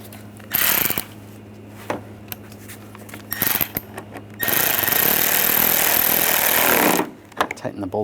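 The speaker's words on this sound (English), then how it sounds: "Tighten the bolt down" Power tool driving a headlight bracket bolt on a Volkswagen GTI, a short buzz, then a sustained whirring run of about three seconds, close up, between clicks and handling noises.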